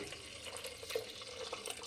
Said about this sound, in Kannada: ಒಂದು ಅರ್ಧ ಲೀಟ್ರಷ್ಟು ನೀರು ಹಾಕ್ಕೊಳ್ಳಿ